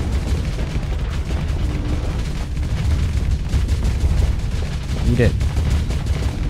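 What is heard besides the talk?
missiles firing and exploding in video game Starsector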